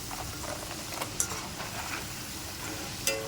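Steady frying sizzle of crispy homemade French fries with soft stirring scrapes and a couple of light metallic clinks, close and continuous.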